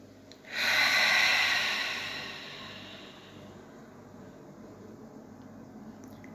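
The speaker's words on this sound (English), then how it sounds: "take a deep breath in through your nose and breathe out through your" A single long, deep breath drawn in through the nose and let out through the mouth during a guided relaxation exercise, close and clear with no other sounds, fading into quiet room tone.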